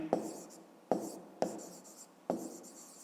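A pen writing numbers by hand on paper during a fifth-grade math exercise: four distinct scratchy strokes at uneven intervals, close and clear, with no talking.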